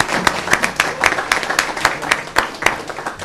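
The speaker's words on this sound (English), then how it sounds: "I want to give y'all a round of applause." Scattered hand claps from a small group at a joint legislative meeting, sparse and uneven rather than a full roaring ovation, carrying on steadily for a few seconds.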